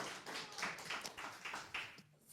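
A political rally crowd claps in a steady rhythm, a series of evenly spaced beats that fade out near the end.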